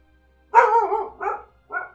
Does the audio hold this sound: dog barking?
yes